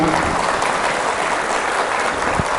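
An audience applauds the mothers at an Islamic lecture, a loud, dense, continuous wash of clapping with no break.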